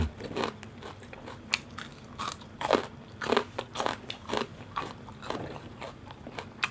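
Close, loud crunching of crispy food, likely deep-fried crispy pork with noodles and green papaya salad, in a quick irregular series of sharp bites and chews.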